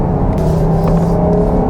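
A Jeep Grand Cherokee L AWD driving on the road, a steady low engine drone and road rumble heard from inside the cabin, loud and even throughout.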